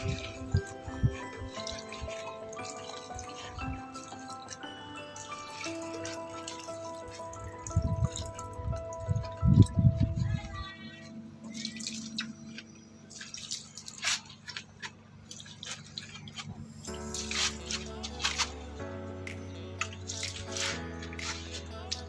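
Water drips and trickles steadily through a drip irrigation line feeding watermelon plants, with intermittent splashy bursts under a soft tonal background throughout.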